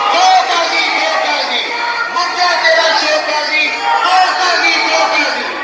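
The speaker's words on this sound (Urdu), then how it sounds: "پہلے نعرے سنیے۔" A crowd at a lawyers' political protest in Pakistan chants slogans together, a loud, continuous wall of massed voices with rising cheers and whoops throughout.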